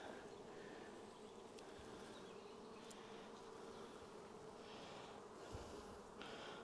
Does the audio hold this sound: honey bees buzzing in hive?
yes